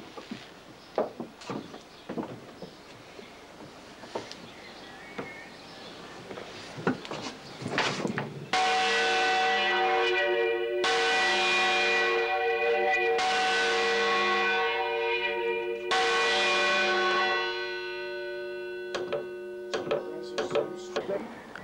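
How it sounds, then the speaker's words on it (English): Church bells housed in a wooden bell cage in the churchyard at East Bergholt ring in loud, sustained tolling strokes that overlap and decay, preceded by scattered knocks and clunks of wooden movement. "housed the bells in this wooden cage"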